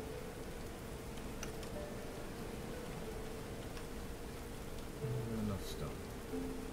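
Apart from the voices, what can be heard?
rain in video game Going Medieval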